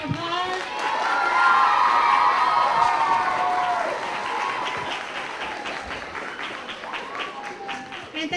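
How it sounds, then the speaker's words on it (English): An elementary school audience of children and adults at a Black History Month program applauds and cheers a quartet, steady loud clapping with shouts that swell and then slowly thin out. "Big round of applause."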